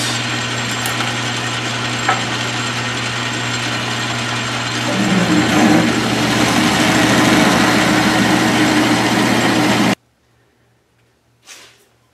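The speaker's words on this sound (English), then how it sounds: "we're gonna drill straight through that piece." A South Bend 13-inch lathe hums steadily as a drill bit bores straight through a metal piece, the grinding growing louder midway before the machine cuts off abruptly.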